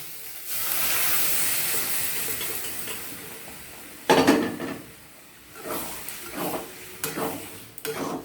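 Chana dal being added to a cooking pot with spiced masala and a little turmeric, heard as a steady sizzling hiss followed by a burst of rustling and several clattering scrapes and stirs, fairly close.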